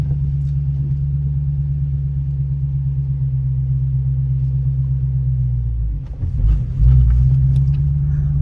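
A manual six-speed car sits at a steady low engine rumble, then pulls away. Near the end the engine note dips and surges as it moves forward, with no voices.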